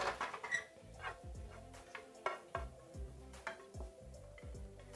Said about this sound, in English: what we're gonna do is transfer our vegetables and our sausages to a separate plate